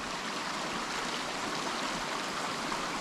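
A stream running through an arboretum park and feeding into the Mures River in Simeria, Romania, gives a steady, close, continuous rush of flowing water with no talk over it.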